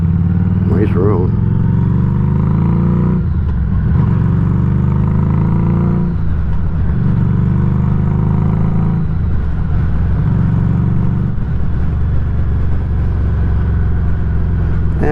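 A Harley-Davidson motorcycle engine rumbles loud and steady while riding uphill, a continuous low drone with slight swells in pitch throughout.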